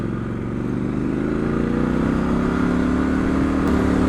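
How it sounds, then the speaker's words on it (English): A 2019 Triumph Scrambler 1200 XE motorcycle engine revs steadily and loudly up close on a test ride, its exhaust note droning and rising slightly in pitch throughout. "I hope the mic picks up some of this exhaust noise"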